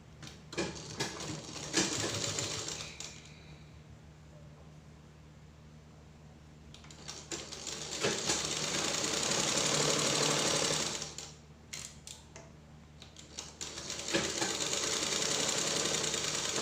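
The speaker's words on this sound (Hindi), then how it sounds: "जो हमारा ये वाला सिलाई का मार्किंग है हम इस पर स्टिच कर लेंगे" A sewing machine stitches along the marking on a puff sleeve for a kurti, running in loud bursts separated by quieter pauses.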